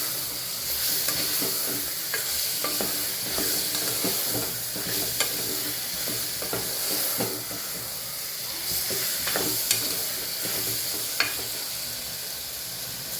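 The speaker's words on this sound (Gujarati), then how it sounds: "બધું એકદમ મિક્સ કરી અને સાતળી લેવાનું છે." Bitter gourd curry mixture with salt and sugar sautéing in a pan, a steady loud sizzle with repeated scrape and stir clicks throughout, no voices.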